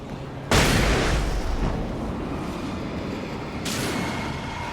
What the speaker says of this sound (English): then we get to throw the flashbang and we can kill it